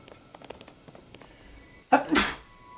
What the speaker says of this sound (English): Sorry about that, I just sneezed.